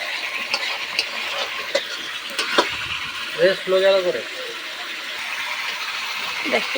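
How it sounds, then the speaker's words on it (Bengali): Spice masala being stir-fried in a pan for a home-style chicken curry, a steady sizzle with scraping stirring strokes and clinks of the spatula, while a voice speaks over the cooking partway through. "আমাদের দাদা কষাচ্ছে মশলাটাকে"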